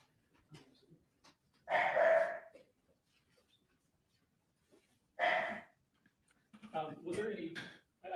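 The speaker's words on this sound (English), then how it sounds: "Dog bark." A dog barks twice, a few seconds apart, in a quiet indoor setting, each bark a brief muffled burst, followed by softer whining or vocal sounds.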